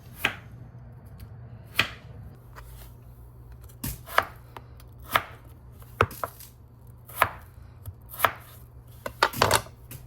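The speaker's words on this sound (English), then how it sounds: "When you cut them, place them in a basin of cold water." A knife chops potatoes on a cutting board for homemade fries, about a dozen sharp, evenly spaced knocks with a quick flurry near the end, close and clear with no talking.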